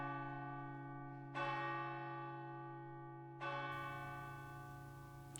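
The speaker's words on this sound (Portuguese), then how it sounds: "À meia-noite, os sinos da igreja tocam" Church bells ring at midnight on arrival in Alsace during a wartime march, sustained tolling with two fresh strikes about two seconds apart, each swelling then slowly decaying, loud and close with no voices.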